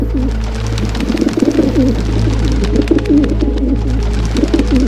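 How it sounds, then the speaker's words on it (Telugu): A flock of pigeons coos in a close, overlapping chorus over a steady low hum, continuous and fairly loud, set in a horror story. "ఆకాశంలోకి చూపిస్తే బోలెడు పావురాలు ఎగురుతూ ఉన్నాయి"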